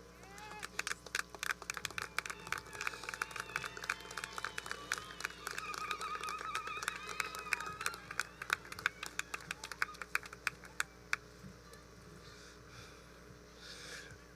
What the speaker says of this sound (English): give your loved ones a round of applause.